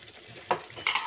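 A spatula stirring sambal chili paste as it fries in oil in a pan, a short stretch of scraping and steady sizzling, close and continuous.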